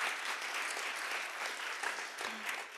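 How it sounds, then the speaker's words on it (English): An audience at a conference applauds after a presentation, a steady, moderately distant patter of many hands clapping that carries on throughout the short stretch. "an applause also for a great presentation and great answers"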